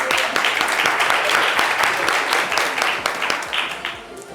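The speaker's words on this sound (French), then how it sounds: "On va l'applaudir." An audience at a live French-language television show applauds a woman as she comes up, giving a steady, dense round of clapping that fades slightly toward the end.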